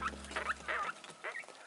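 Quail in a crowded brooder give a few quick, high, squeaky chirps and chattering calls, close and fairly soft, over a low electrical hum that stops partway through.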